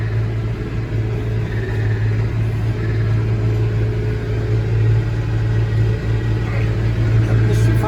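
Massey Ferguson 1105 tractor engine running steadily while powering a John Deere 335 round baler, a loud continuous low rumble with a constant mechanical drone and no talking.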